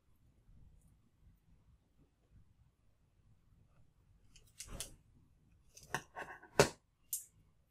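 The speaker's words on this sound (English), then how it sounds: "I'm just going to cut these all out." Scissors cut out small paper shapes in a quiet room: after a long near-silent stretch come a handful of crisp, close snips, spaced irregularly.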